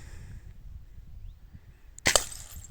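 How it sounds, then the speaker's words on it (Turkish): A Hatsan Mod125 air rifle fires once at an Efes beer bottle outdoors: after a quiet stretch, one sharp crack is followed closely by a brief bright smash. "Yasin e, şu Efes şişesini vuralım bence"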